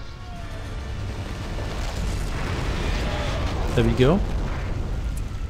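A Balrog is summoned in The Lord of the Rings: The Battle for Middle-earth, a strategy game, with a deep roaring rumble that swells steadily and stays loud throughout. Someone speaks briefly near the end.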